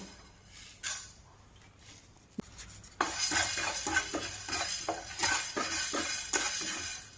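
Masala for a Mangalore-style spicy fish curry being stirred and roasted in a pan: quiet clinks at first, then a steady run of close scraping strokes with a light sizzle.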